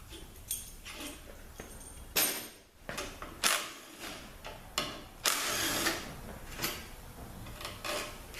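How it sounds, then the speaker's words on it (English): Power tool running in short bursts to remove bolts during a Ford CD4E transmission teardown, with several whirring, ratcheting pulses and clicks close by at fairly low level. "now we're going to take all the bolts out except for probably about 2 or 3 of them"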